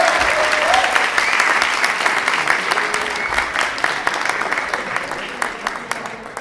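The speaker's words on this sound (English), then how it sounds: "One more round of applause for David!" Loud, sustained audience applause for third-place finalist David Sugano at the HIS Reads 2017 event, dense clapping from a full room that stays strong and tapers slightly near the end.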